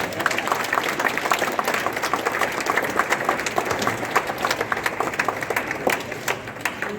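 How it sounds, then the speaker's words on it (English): An audience at a school Goa Liberation Day celebration claps after a performance, a sustained round of applause with distinct sharp claps, fairly close and steady. "Please give them a big round of applause"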